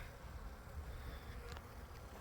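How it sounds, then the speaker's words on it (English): Bees buzz in a steady low drone, fairly quiet and close, with a brief brighter whine as one passes near. "2 bees enter, 1 bee leaves."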